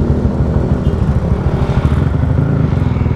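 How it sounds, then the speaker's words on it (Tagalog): A Yamaha NMAX scooter engine idles close by, a steady low throbbing rumble with rapid pulsing, loud and continuous with no talk. "Ayan na yung ano, motor ni Pitik Bulag mga sir"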